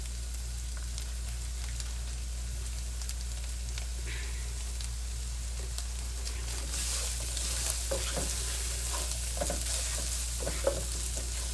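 Onions with a sprinkle of salt and black pepper fry in a pan, a soft steady sizzle with occasional scrapes and stirring clicks over a low hum, no talking.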